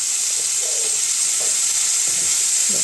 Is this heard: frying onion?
yes